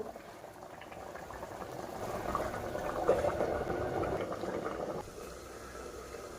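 Egg masala curry gravy bubbles in a covered pan, giving a steady soft boiling hiss with a gentle swell in the middle. It is close and fairly quiet, with no voices.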